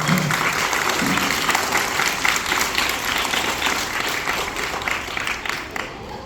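An audience of schoolchildren and guests at a school speech by a foundation president, clapping in a dense, sustained round of applause that stays loud across the clip before tapering slightly at the end.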